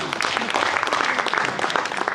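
An audience at a magic show claps for a volunteer, a dense and lively burst of applause that stays steady and fills the room.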